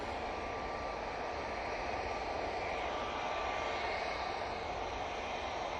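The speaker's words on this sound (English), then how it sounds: "we have the Virgin A330 coming into shot now" A Virgin Airbus A330-300 arriving from New York JFK on approach to Manchester Airport gives a steady, distant jet-engine roar with a faint whine, even and unbroken throughout.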